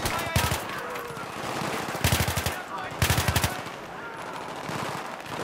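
Bursts of automatic rifle fire in Battlefield 3, with three sharp, loud rapid-fire volleys and a short opening burst separated by gaps of rumbling battlefield noise.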